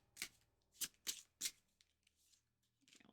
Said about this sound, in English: I'll shuffle this again once we come back.